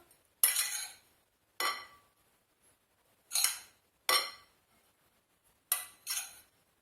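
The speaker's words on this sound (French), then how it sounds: "Et je remue bien pour mélanger" Almond-based plant yogurt and almond powder stirred together in a bowl, giving six short, separate scraping clinks of a utensil against the dish with quiet pauses between them, fairly close and with no talking.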